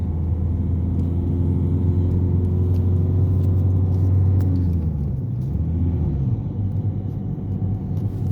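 A car on a driving-test route accelerates through the gears, its engine a steady, loud low rumble whose pitch shifts partway through, with no talking.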